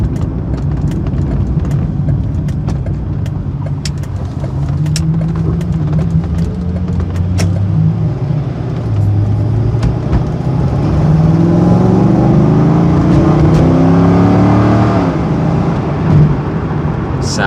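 A 2006 Chevrolet Corvette with about 76,000 miles accelerates hard on a road test drive, its engine note climbing through several rising sweeps as it shifts up, loud and close over steady road and wind noise.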